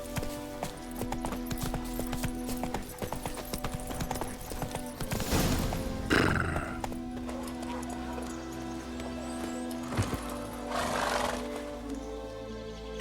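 Roach, a horse in The Witcher 3, trotting with steady clip-clop hoofbeats and a couple of snorts or whinnies over a quiet ambient game background.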